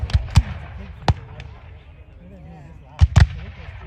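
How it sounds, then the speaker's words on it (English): Muskets crack at a Civil War reenactment, a few sharp reports at a distance, some clustered into near-simultaneous volley shots, separated by quiet gaps with faint murmur between. "It looks as though there's a volley fire at the same time."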